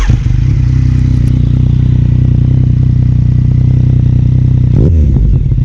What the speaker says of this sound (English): let's just do one last rev bomb before the battery dies